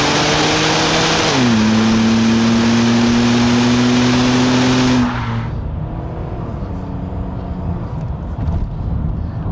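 A 1999 Vauxhall Omega automatic in sport mode revs hard, close and loud. The engine note is a raspy, steady roar that climbs, holds, then drops away to a lower hum as the revs fall.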